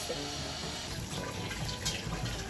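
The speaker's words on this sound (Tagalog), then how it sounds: "kumukulo na po itong tubig na akin pong pinakukuluan" A pot of water seasoned with salt and onion boils steadily, a soft continuous bubbling and hiss at low volume with no voices.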